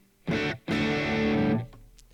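An electric guitar plays through a Boss Katana Mk II amp with a Blues Driver boost, set up for a Vox AC30-style tone with room reverb. One short overdriven strum is followed by a longer ringing chord that is cut off.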